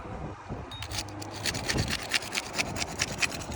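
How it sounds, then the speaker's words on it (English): A beveled-edge scraper works through a seal in a series of short, rasping scraping strokes, close and moderately loud, with sharper scrapes toward the end and no talking. "Use a scraper that has a beveled edge. That way I get a nice clean cut between the seal"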